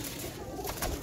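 Soft, low cooing from Heeralal pigeons, steady and close, with a faint background hiss and no voices.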